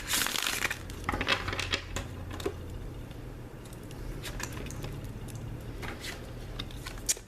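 A deck of tarot cards is shuffled close by, giving soft, repeated crinkling riffles and papery flutters with small clicks scattered throughout at a quiet level.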